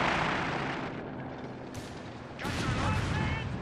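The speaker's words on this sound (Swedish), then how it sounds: "Det var en liten kanon!" A small cannon firing in Company of Heroes 3, with game battle noise rumbling throughout and a heavy booming blast swelling near the end.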